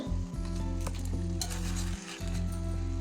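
A fish head sizzles and fries in a pan with cooking bottle gourd, a continuous close crackle with light stirring scrapes throughout.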